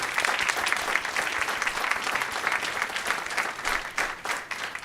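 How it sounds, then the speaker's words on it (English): Applause at a public school board of education meeting, a room of people clapping steadily for about five seconds, fairly loud and even, with no talk over it. "Let's give them a round of applause."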